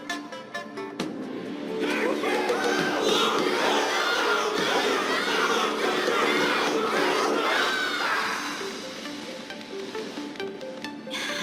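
A massed crowd cheering in Honkai Star Rail's final battle with Yanqing builds from a thin murmur into a full, roaring wall of shouts that holds for several seconds before thinning out again.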